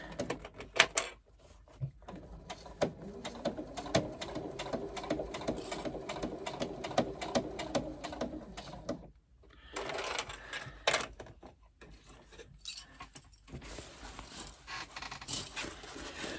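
A sewing machine runs a seam on a zippered fabric pouch, with a quick, steady stitching whir for several seconds amid soft handling clicks and fabric shuffling before and after.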